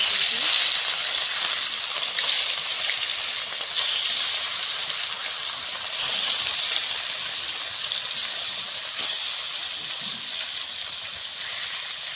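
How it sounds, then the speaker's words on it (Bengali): Marinated rohu fish pieces frying in hot oil in a wok, giving a steady, dense sizzle and hiss that holds at an even level throughout with faint bubbling. "এখানে মাছটা ভাজা হচ্ছে"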